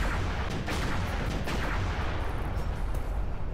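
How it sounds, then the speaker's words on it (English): A huge explosion in the video game Halo Reach running a cursed mod, heard as a dense, rumbling roar of booms and crackling blasts that carries on steadily throughout, moderately loud and without speech. "Oh my god, that explosion is huge."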